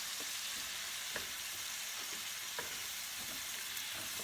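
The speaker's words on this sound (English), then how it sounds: "Let the butter melt. And then we are going to put the mushrooms in." Mushrooms sizzle in melted butter in a pan, a dense and constant hiss with scattered pops and crackles, close and steady with no talking.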